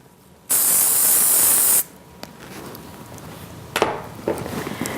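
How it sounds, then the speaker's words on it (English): A single loud, steady spray of Theory firm hairspray misting onto styled hair lasts just over a second, followed by quieter handling rustles and a couple of faint clicks. "We'll go ahead and mist it with our theory firm."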